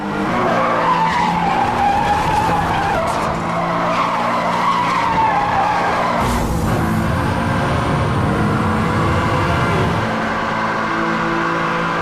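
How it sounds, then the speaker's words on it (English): Supercars in the racing game Need for Speed Hot Pursuit roar and skid with sustained tire squeal over loud engine whine, a dense, continuous blast of racing noise with a sharp shift midway. "Need for Speed Hot Pursuit features dozens of supercars, including super sports cars."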